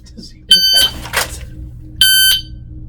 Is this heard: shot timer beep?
yes